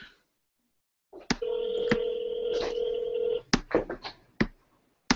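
A touch-tone telephone dials a number: a steady tone, then a series of short, separate keypad beeps in an uneven rhythm, clear and close.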